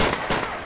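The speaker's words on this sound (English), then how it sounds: "He is firing on officers." Gunfire in GTA IV with the LCPDFR police mod, a suspect shooting at officers; a short, dense burst of loud shots packed tightly together, with a sharper crack near the middle.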